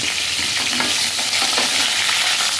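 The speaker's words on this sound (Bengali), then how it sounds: "পটলটা লো ফ্লেমে একদম নরম হওয়া পর্যন্ত ভাজবো" Pieces of pointed gourd (potol) fry on a low flame. A dense, even sizzle holds steady throughout, close and fairly loud, and no one talks.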